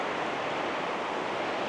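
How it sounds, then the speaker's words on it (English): River rapids at Belknap Hot Springs in Oregon make a steady, dense rushing roar of water, continuous and close with no pauses and no voices. "hear the rapids."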